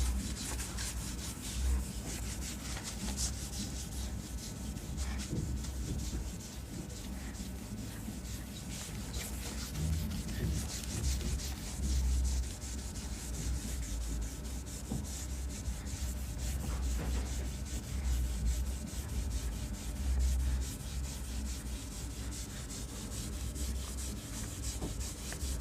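During a maths lesson, a duster rubs across a board to erase it, making a steady, continuous scrubbing and swishing sound with slight surges in strength. The sound is close and carries on throughout, with no talking.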